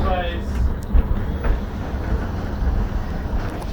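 London Tram 331 running at Crich Tramway between Victoria Park and Townend, a steady low rumble and rattle of the moving car with occasional knocks and some wind noise, continuous throughout.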